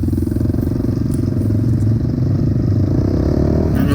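Kayo 140 pit bike engine that had stood a month in the rain runs at a steady, loud, throbbing idle up close, with a brief clatter near the end.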